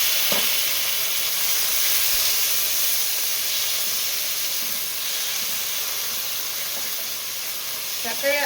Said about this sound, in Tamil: இது வதங்கி நைஸாக ஆகிற வரைக்கும் வதக்கணுங்க.